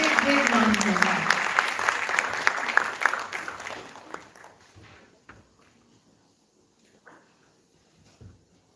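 Audience applause at a national social hackathon finale, loud and dense at first, then thinning out and dying away to near silence, with a few scattered claps and faint sounds near the end.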